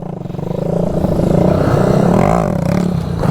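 A Bajaj CT 100 motorcycle revs hard and close during wheelie stunt training, its engine note swelling and holding loud before easing off near the end.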